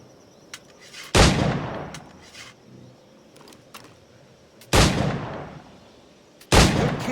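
Three loud, sharp gunshots from flintlock firearms in Assassin's Creed 4 Black Flag, spaced a few seconds apart, each with a decaying tail over a quiet ambient background.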